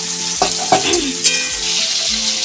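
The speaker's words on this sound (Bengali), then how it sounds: "পেঁয়াজটা ভাজা ভাজা হয়ে গেছে, দাও। এখন দিয়ে দিই চিংড়ি মাছ।" Onions frying in oil in a pan for shrimp curry, a continuous sizzle broken by a few clattering stirs of a spatula, with no talking.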